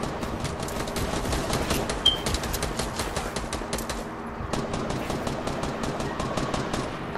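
Rapid automatic gunfire from the battle royale game Fortnite, dense bursts of shots rattling almost continuously and loudly, with brief gaps between volleys.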